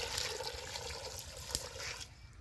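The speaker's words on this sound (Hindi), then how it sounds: "और अभी हम इसमें डाल लेंगे पानी" Water poured into a kadhai holding a whole chicken, a faint continuous trickling splash lasting about two seconds before stopping.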